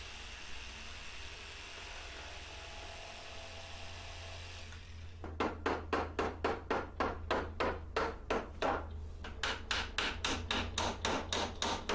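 Galvanized 1.5-inch nails are hammered into cedar fence boards for a potting bench, a steady run of sharp, evenly spaced blows close by over a low background hum, after a few seconds of quiet.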